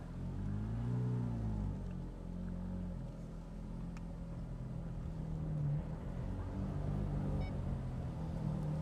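Cabin noise from a 2008 Ferrari F430 Spider convertible with a manual six-speed: a steady low engine and road rumble with some tonal drone, continuous and fairly loud throughout, with no speech.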